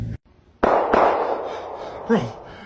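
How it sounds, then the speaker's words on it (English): Fireworks going off outside, two sharp booms with a lingering crackling rumble, heard from indoors and quite loud, followed by a brief voice. "I think somebody's shooting outside. Just fireworks"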